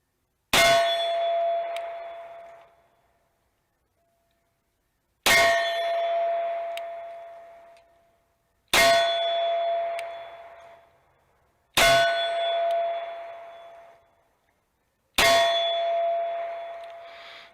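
A handgun fires five slow, evenly spaced shots at an outdoor range, two-handed from about seven yards; each is a sharp crack followed by a long, fading metallic ring, with silence between shots.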